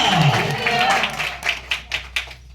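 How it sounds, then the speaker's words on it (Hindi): A church congregation clapping loudly in praise of God, mixed with voices at first and then ending in a few sharp, separate claps. "ताली बजा जोर से परमेश्वर के लिए"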